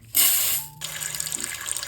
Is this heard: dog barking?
no